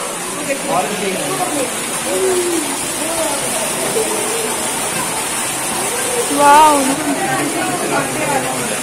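Water falls from above inside the Khewra salt mine, a steady broadband rush like a small waterfall or heavy rain running through the whole stretch, with people talking over it.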